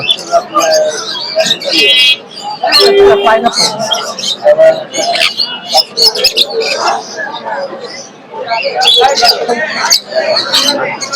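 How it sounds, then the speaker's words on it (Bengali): Birds chirp and call at the Mirpur 1 bird market amid a busy crowd, bright tweets and some cooing scattered over steady nearby talk and bustle. "খুবই সুন্দর পাখি।"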